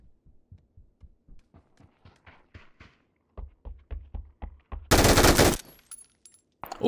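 Gunfire in PUBG on the Vikendi map comes as a fast run of evenly spaced distant shots that then grow louder and heavier. A sharp loud noise follows, then a brief burst at the very end.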